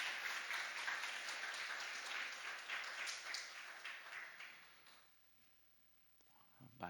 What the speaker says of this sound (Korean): 네, 박수 하겠습니다.